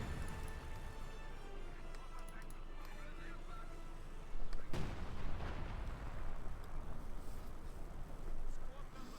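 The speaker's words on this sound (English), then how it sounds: "More artillery fire here" Artillery fire in Company of Heroes 2, a real-time strategy game: dense, rumbling battle noise with a sharp blast near the middle, followed by a louder stretch of booms and gunfire while a commentator talks over it.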